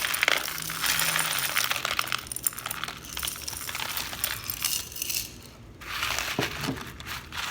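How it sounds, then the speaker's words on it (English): Rocks are poured and spread into the bottom of a cut-off plastic bottle container for a fairy garden, giving close clattering, clinking and crunching bursts that continue in uneven clusters. "I'm going to take my rocks and I'm going to put those in the bottom"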